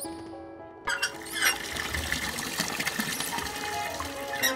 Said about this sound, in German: Alright, tap's working.